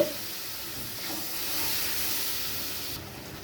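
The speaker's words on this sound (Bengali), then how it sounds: "এবার আমি পেস্ট করে রাখা মশলাটা দিয়ে কষতে থাকবো" Ground spice paste frying in a pan with a splash of water, for a pointed gourd and potato curry with prawns, gives a steady, close, broadband sizzling hiss throughout, easing slightly near the end, with no talking.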